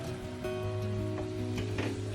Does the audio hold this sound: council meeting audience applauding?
no